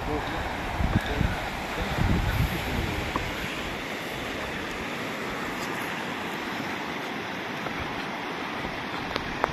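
River water flows steadily along the Koksu riverbank, a continuous broad rush with wind buffeting the microphone, strongest in the first seconds.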